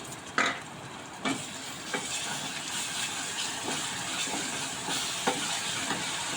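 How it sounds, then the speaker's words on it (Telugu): Ginger garlic paste frying with onions in a pan for a milk-based curry, a steady close sizzle broken by several sharp scrapes of a stirring spoon, with no talking. "అల్లం వెల్లుల్లి పేస్ట్ కూడా కాస్త ఫ్రై అయింది కదా"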